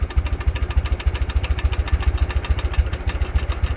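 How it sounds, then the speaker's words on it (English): A 1969 Ford 5000 tractor engine idles up close with a steady, thumping chug of rapid even beats. "Just listen to how this thing runs, or how it idles."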